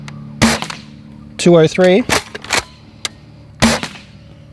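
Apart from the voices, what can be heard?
Game Face Trion airsoft gun shots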